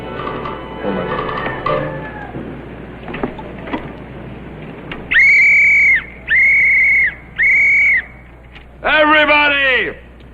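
A whistle is blown in three loud, sustained blasts at close range, followed by a longer warbling, trilling blast, all coming after a stretch of people talking and background noise.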